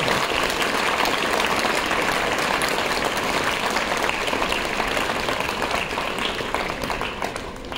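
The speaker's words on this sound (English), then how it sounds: "I want all of you to give once again a thunderous clap for yourself" Students and guests at a school sports prize distribution ceremony give sustained thunderous applause, a dense, even roar of many hands clapping that carries on steadily without speech.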